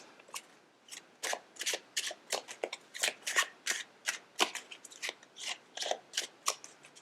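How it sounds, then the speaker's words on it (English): Tarot cards shuffled by hand close up, a steady run of crisp, papery riffling bursts and soft slaps repeating in a quick, uneven rhythm with no talking. "I don't even know why I'm shuffling"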